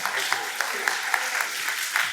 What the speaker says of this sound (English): give a round of applause for our guests for coming out